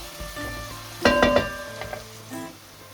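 Onion and meatball sauce cooking in a pan over medium-low heat, a soft steady sizzle with a cluster of metallic utensil clinks against the pan near the middle, close and fairly clear.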